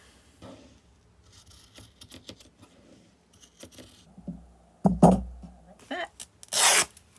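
Scissors snip through paper while crafting a Halloween-themed junk journal, a few close, soft cutting strokes ending in a brief louder rasp, with light handling rustle around them and no talk.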